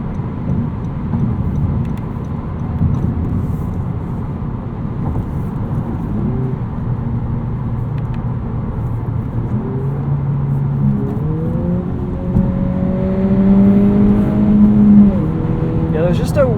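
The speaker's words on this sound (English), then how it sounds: "There is a little bit of wind and road noise at speed." Inside a 2020 Honda Civic Si sedan at speed, a constant low rumble of wind and road noise fills the cabin, joined later by rising engine tones as it accelerates, with someone talking over it.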